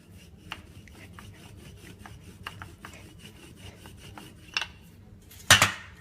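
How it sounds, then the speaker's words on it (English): A rolling pin rolls out croissant dough on a work surface with soft, repeated rubbing strokes in an uneven rhythm. It stays quiet throughout, and a sharper knock or two lands near the end. "So I have my rolling pin. I'm just going to roll it out"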